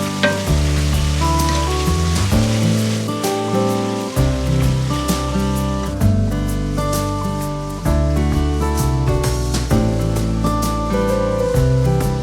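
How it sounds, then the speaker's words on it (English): Sauce with light brown sugar simmering in a pan makes a steady, close sizzle and bubble that runs the whole time with no talk, and soft stirring scrapes come through now and then. "We're gonna mix this together and let it simmer for about 5 minutes."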